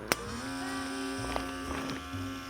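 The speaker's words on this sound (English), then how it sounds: "the little vacuum, handheld vacuum, lines up with the port" A small handheld vacuum sealer pump pulls air from a bag of bacon through its port, a steady electric motor whine with a click at the start and small bumps of handling noise.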